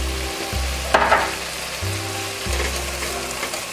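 Diced fresh garlic frying in a pan for baked macaroni and cheese, a steady close sizzle with a short burst of louder crackling and a low hum underneath.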